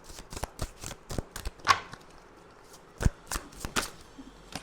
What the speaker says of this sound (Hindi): एक और कार्ड निकाल लेते हैं।